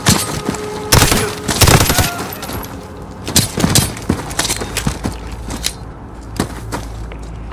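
Gunfire in the Call of Duty Modern Warfare video game: loud bursts of shots and sharp bangs crack at irregular intervals over a low rumbling battle bed, with faint impacts between volleys.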